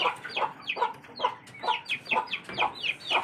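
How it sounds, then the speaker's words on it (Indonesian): Free-range village chickens cluck in quick repeated bursts, close by and fairly soft, a busy rhythmic chatter with no talking. "Saya beternak ayam kampung ini"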